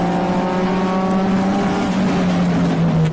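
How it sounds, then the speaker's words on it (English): A ChampCar endurance race car engine roars loudly and steadily under acceleration, its pitch climbing before an upshift, then dropping near the end of the sustained close-up drone. "you could hear he made an upshift there"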